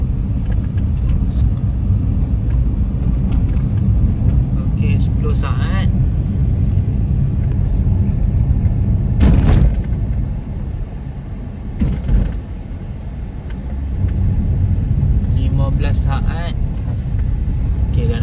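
A car drives along a road, a steady low engine and road rumble heard from inside, with people talking over it and a few brief knocks and rustles.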